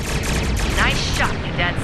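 Starship weapons firing in a Star Trek Online space battle against Klingon vessels, a dense run of zapping energy bursts and rapid blasts, loud and continuous over the whole stretch with a voice speaking underneath.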